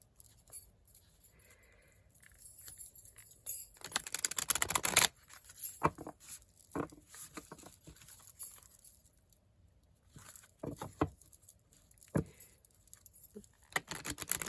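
Oracle cards, chakra cards, are shuffled by hand in irregular bursts of papery riffling and tapping, close and fairly quiet, with pauses between the flurries and no talking.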